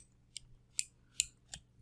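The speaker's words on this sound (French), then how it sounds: "je vais venir ici avec un petit ciseau avec la pointe, pointe bien pointue" Small sharp-pointed scissors snip four times in a steady rhythm while cutting buttonholes, each cut a crisp, close metallic click with nothing else heard.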